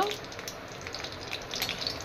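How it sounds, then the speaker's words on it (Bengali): Dry red chillies and black cumin sizzle in hot oil for a fish curry, a faint steady crackling hiss with small pops, heard close and fairly quiet. "এখানে শুকনো লঙ্কা ফোড়ন দিয়ে দিচ্ছে, আর তার সাথে দিল কালো জিরে"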